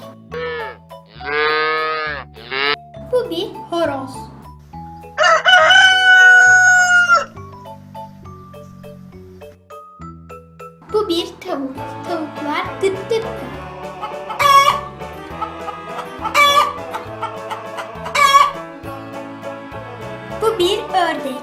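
Hen clucking among other farm animal calls, including a cow's moo, set against a light musical backing with gaps between bursts.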